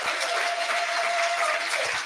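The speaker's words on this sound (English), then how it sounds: "Round of applause for the volunteer award winners." A crowd applauds volunteer award winners at a youth awards ceremony, with steady, dense clapping filling the whole moment at fairly close range.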